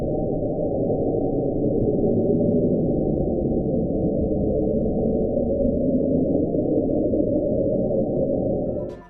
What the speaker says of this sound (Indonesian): Julia adalah suara rengekan aneh dengan durasi sekitar 15 detik.